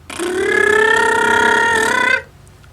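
An unusual phone ringtone sounds as one continuous, loud, warbling electronic tone lasting about two seconds before cutting off abruptly, alone without talk.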